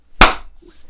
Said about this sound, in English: I'm just going to do a little clap so I can sync it later.